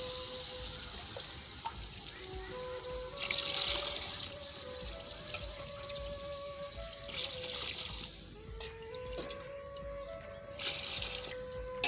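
Water is poured into a pot of browned chicken in masala on a village cooking fire, a soft steady trickle and splash lasting several seconds, faint and close, with some clatter and no talk.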